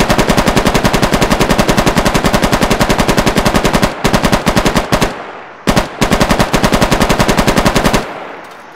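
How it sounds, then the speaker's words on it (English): M84 machine gun, similar to a PKM, firing long sustained bursts of rapid, very loud shots at a weapons showcase, with two short breaks between bursts and a fading echo at the end. "which is like a PKM."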